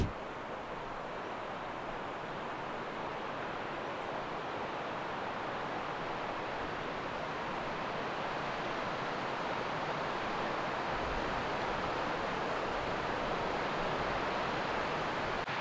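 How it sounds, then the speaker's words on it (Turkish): Steady, broad rushing of the Tuğludere stream flowing below a village, a constant faint wash of water with no breaks and no voices. "Hemen şu köyün alt tarafından şuradan böyle bir dere geçiyor."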